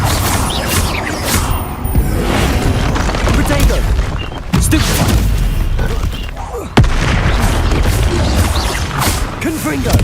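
Explosion spells Confringo and Bombarda in the video game Hogwarts Legacy: loud booming blasts and crashing impacts, with two sharp bursts standing out amid dense, continuous battle noise, under occasional speech.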